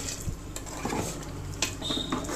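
Scraping, clinking stirs of a spoon in a pot of vegetarian mutton-style curry with horse gram, with faint sizzling underneath and a few sharp metallic taps.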